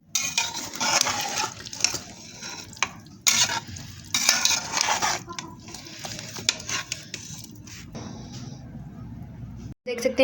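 A spoon scrapes and clatters around a pan of sizzling aloo keema (minced meat with cooked potatoes, capsicum and coriander), coming in loud bursts of stirring separated by quieter stretches of soft frying nearby.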